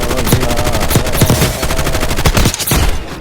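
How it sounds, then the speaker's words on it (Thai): Rapid bursts of automatic gunfire from the Warzone Mobile shooter game ring out loud and close, with sharp repeated shots over a busy game soundscape. "นี่เขายิงกันใช่ไหม"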